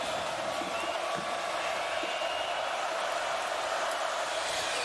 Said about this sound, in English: Crowd trying to make it tough.